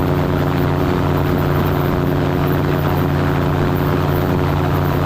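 Small floatplane engine in flight, a loud, steady droning roar with a constant propeller hum filling the cabin and no talking.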